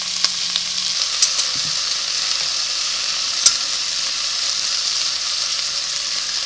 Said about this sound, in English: I'm going to saute them until they're a little soft, not necessarily thoroughly cooked.